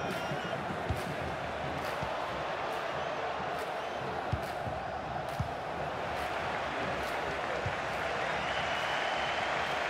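Stadium crowd in a FIFA 23 football match, Ceará versus Londrina, a steady roar of cheering and applause across the whole stretch, dense and continuous with occasional sharper claps and thumps rising above it.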